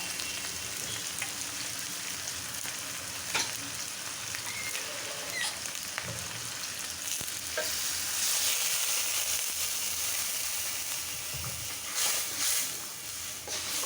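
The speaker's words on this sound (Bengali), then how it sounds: "এখানে গরম মশলা তেলে দিয়ে একটু ভাইজে নিচ্ছি ফ্লেভারটা সুন্দর আসার জন্য" Garam masala and spices frying in hot oil with a steady, dense sizzle and hiss and a few faint stirring taps, close and continuous, no talking.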